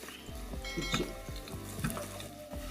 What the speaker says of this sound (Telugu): సెకండ్ మసాలా చేయడం కోసం కొంచెం ఆయిల్ పాన్లో ఈ ఆనియన్స్ కట్ చేసుకున్న ఆనియన్స్